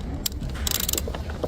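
Rapid clicking of a socket wrench ratcheting an 11mm nut to loosen a car's negative battery terminal, in two quick bursts of close, sharp clicks with no talking.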